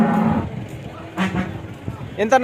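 A cow moos loudly nearby at the Punganur cattle market, with a couple of other lowing calls and faint voices in the background.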